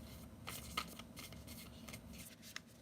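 Tarot cards are drawn from a deck in a few soft rustles and light slides of card stock, with one or two small taps and clicks, all faint against a quiet room.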